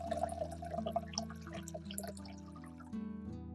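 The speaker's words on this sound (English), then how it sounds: "pour water into a large bowl" Water runs and trickles into a large bowl with a shifting tone that rises as it fills, close by, steady with small splashy drips.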